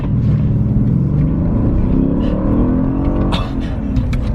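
A Mercedes CL63 AMG coupe accelerating hard, heard from inside in the passenger seat: a loud, deep engine roar that climbs steadily in pitch, then briefly drops at a shift before pulling again.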